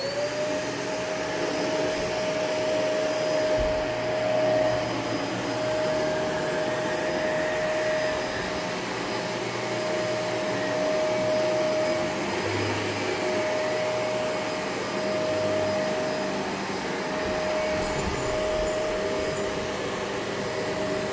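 A household vacuum cleaner runs indoors with a dog nearby, giving a steady, loud motor whine and airy roar that holds unbroken for the whole stretch, with no talking.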